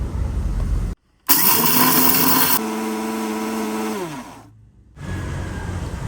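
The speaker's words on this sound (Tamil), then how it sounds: "இப்போ நாங்கள் கிரைண்டரில் போட்டு அரைச்செடுப்போம்" An electric grinder whirs loudly as it powders roasted laddu ingredients, starting after a brief pause, running hard, then winding down with a falling pitch before a short silence and a restart.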